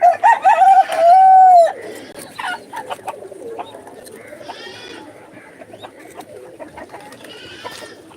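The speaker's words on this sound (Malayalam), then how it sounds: "ഇന്നെല്ലാ പ്രാവ് അളിക്കുന്നത് ഇത് കുറേ പ്രാവാണ്" A flock of pigeons kept in a backyard cage, with soft cooing and bird calls up close, other birds and poultry chirping around them and a few short vocal bursts at the start.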